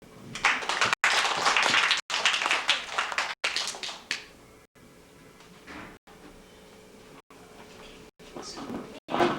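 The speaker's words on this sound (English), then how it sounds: "let's give her a big round of applause" An audience applauds a special guest with dense, loud clapping for about four seconds. It then fades into quieter room sound broken by brief dropouts, with voices underneath.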